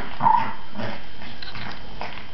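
A dog growls low and steadily in short rumbles while playing fetch indoors, close to the listener with no clear talk over it.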